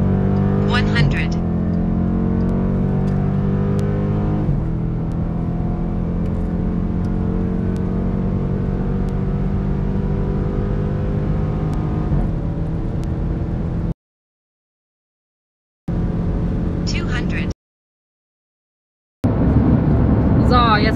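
A Dodge Durango SRT SUV with a 6.4L HEMI V8 accelerates hard from 100 to 200 km/h on the Autobahn, its engine drone rising steadily in pitch through several gear changes, heard close from inside the cabin.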